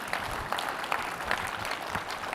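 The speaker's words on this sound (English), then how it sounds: "Yeah, let's clap for them." Audience at an academic mathematics conference applauding, a steady spread of many hands clapping at moderate volume, fairly even throughout.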